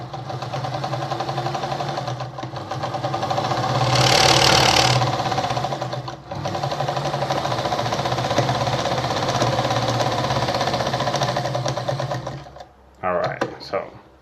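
An Adler model 489A sewing machine stitches at a much reduced stitch length, a close, steady whirring hum with rapid needle pulsing for about twelve seconds before stopping, accompanied by talk.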